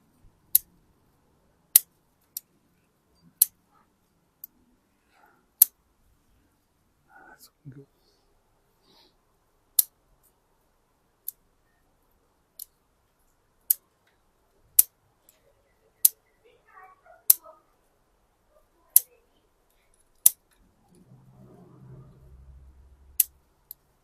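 Sharp, isolated snips of pruning scissors cut back an overgrown Seiju elm bonsai. Each snip is crisp and close, repeating irregularly every second or two, with brief quiet rustles between them.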